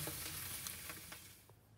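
Steaks searing in butter on a cast iron pan over a Kamado Joe grill give a steady, close sizzle and hiss with faint crackles and light clinks, and no voices.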